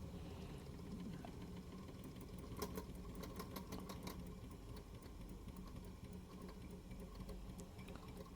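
A Wilesco D430 toy steam engine runs at a slowish, steady pace, giving a faint continuous mechanical chuffing and clatter with light metallic ticks scattered throughout.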